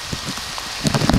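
Rain falling outdoors during a film shoot, a steady patter over broadband hiss that grows denser and louder toward the end, with a few heavier drops standing out.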